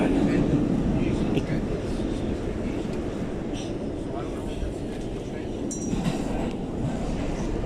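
An R211 subway car on the A train rolls along on the ride toward Ozone Park-Lefferts Blvd, giving a continuous loud rumble and rail roar with faint squeals and clatter and no pauses.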